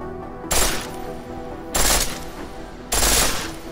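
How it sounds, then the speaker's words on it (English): Pistol in Deus Ex: Mankind Divided fires full auto in three loud, close bursts of rapid rattling shots, each burst lasting under a second, separated by short pauses. "The pistol in full auto will take down targets fast, but it'll burn through your ammo."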